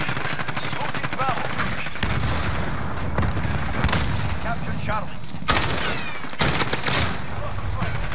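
Frantic gunfire on the cramped Shipment map in Call of Duty, dense overlapping shots and heavy blasts that pound continuously and loudly, with a few sharper louder bursts near the end.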